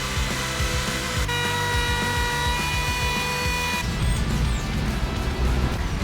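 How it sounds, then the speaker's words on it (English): A handheld wood router cuts timber for a folding table aboard a sailboat, a loud, sustained high whine that shifts pitch as the bit bites and eases, close up and with no talking over it. "Trent started routing, it's working perfectly"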